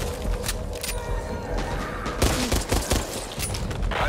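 Rapid gunfire bursts and shots crackle continuously in the co-op zombie shooter Back 4 Blood, with dense overlapping reports and louder volleys midway, loud throughout with no talking.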